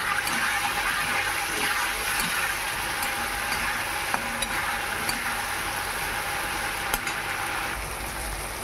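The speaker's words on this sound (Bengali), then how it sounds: "এবার আলুগুলো দিয়ে দেবো, আর আলু ভালো করে কষে নেব মশলা দিয়ে।" Potatoes frying and being stirred with spices in a pan for a katla fish roe curry, a continuous bright sizzle with occasional sharp clicks of the spoon.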